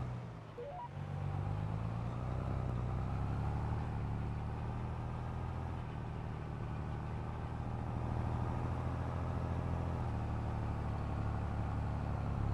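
Case IH 620 quad track tractor in Farming Simulator, its engine droning steadily under load throughout, a loud continuous low rumble with no talk.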